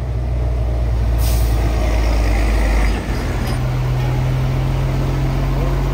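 A heavy tow truck engine idles loudly and steadily, standing by to recover a diesel tanker truck in Indonesia, with a sharp hiss of air brakes releasing briefly, then the engine note shifts slightly.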